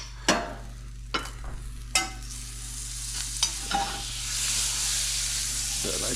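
Walleye fillets blackening in a hot pan, with steady sizzling and frying hiss, punctuated by several sharp clanks and scrapes as pieces are added and moved, the hiss swelling louder toward the end.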